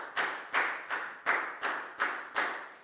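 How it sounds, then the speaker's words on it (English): A group of students clapping together in a classroom during a primary school maths lesson: seven loud, evenly spaced claps in a steady rhythm, with no talking. "Big round of applause for Pangpon, please, guys."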